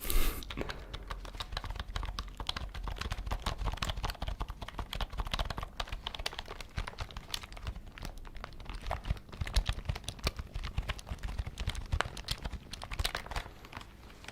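Quiet close-up tapping on a gaming computer keyboard in a computer repair shop roleplay, a continuous run of crisp, fast keystrokes with no talking.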